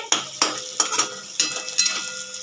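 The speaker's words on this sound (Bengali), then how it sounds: "পেঁয়াজটা এবার ভাজা হয়ে গেছে একটু লাল লাল করে" Onions fried until reddish in a pan while a utensil scrapes and stirs them, giving about six sharp, close strokes over a steady low sizzle, with no talking.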